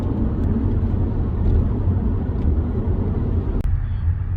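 A Mercedes W212 E350 accelerating, heard from inside as a steady low engine and road drone with a smooth, even rise, moderately loud and continuous.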